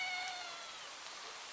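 A cat meows on a quiet street: one faint, high mewing call near the start, with a tone that trails off over a low, steady background hiss.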